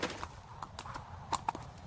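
A horse's hooves clip-clop at a walking pace by a soldiers' camp near the Yellow River, a few uneven knocks over a soft background hum.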